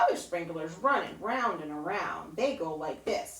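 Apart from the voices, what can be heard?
No everyday noises stand out.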